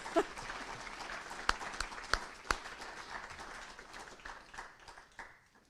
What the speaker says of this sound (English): How about a round of applause for the federal government?